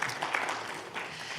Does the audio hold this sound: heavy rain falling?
no